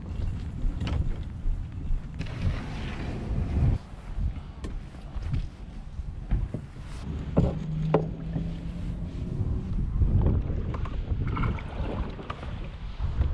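A kayak launches and paddles out on Florida water, with soft splashes and steady rumble of wind and water close to the microphone and no talk.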